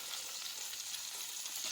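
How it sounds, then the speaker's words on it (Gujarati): Green peas and samosa masala frying in a hot pan for a wheat-flour samosa filling, giving a steady, close, broadband sizzle with no voices. "લીલા વટાણા નાખી દઈશું, હવે આપણે સમોસાનો મસાલો નાખી દઈશું"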